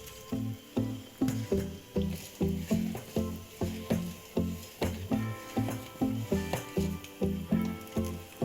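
A thick homemade chyavanprash mixture is stirred in a pan, producing rhythmic, repeated squishy scraping strokes at a steady pace, close and fairly loud, with soft music playing underneath.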